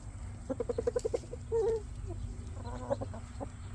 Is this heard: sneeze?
no